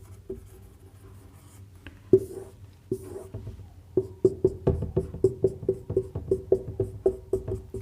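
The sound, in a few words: pen writing on an exam answer copy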